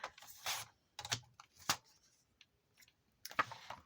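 Paper being cut with scissors for a craft cover, a series of quiet, close snips and crisp clicks in irregular bursts separated by short pauses, with no voice.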